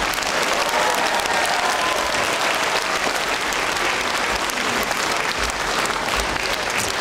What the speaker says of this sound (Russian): Аплодисменты для Рояля